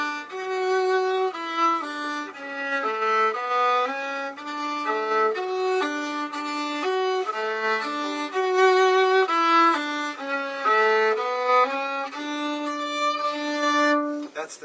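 A solo violin plays a flowing melody, bowed notes moving steadily up and down with clear harmonics, close and moderately loud.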